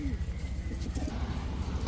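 Pigeons for sale coo softly in a low, rounded pulse close by, over a background murmur that may include faint talk.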